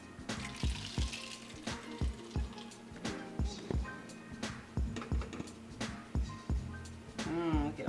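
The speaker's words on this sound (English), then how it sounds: "You wanna go ahead and pour your mixture back into the pot." Thick broccoli soup mixture pours back into a pot with a steady, sloshing flow punctuated by rhythmic plops and clunks close up, while sizzling hisses underneath.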